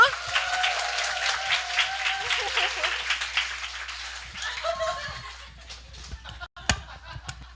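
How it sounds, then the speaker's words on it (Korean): Audience applause at a Korean Nu Skin business seminar, a crowd clapping steadily and fairly close with some laughter, fading out near the end into a few scattered claps. "이 세 분을 위해서 박수 한번 주세요"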